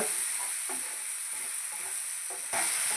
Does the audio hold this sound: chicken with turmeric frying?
yes